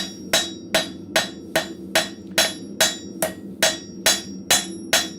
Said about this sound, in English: I'm just slowly guiding it along the edge of the anvil so I can work that a little bit thinner